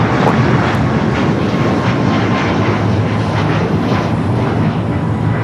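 Airliner taking off from LAX runway 25 right, a loud, steady broadband engine roar that holds constant throughout, with no talk.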